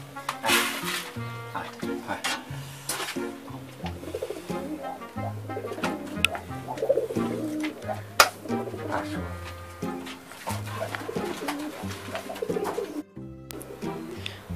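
Pigeons in a home coop coo in repeated soft, throaty calls, fairly close, while someone talks over them throughout, with a few clinks in the background.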